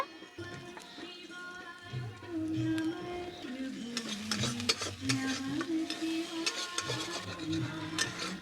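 Chopped onions and green chilies sizzle in hot oil in a pan while being stirred, a steady soft frying hiss broken by repeated scraping strokes of a spoon.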